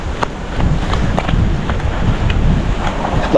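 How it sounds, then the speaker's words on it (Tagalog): Strong wind buffets the microphone in a steady roaring rush, with scattered soft thumps and rustles close by. "Taas ng hangin, no?"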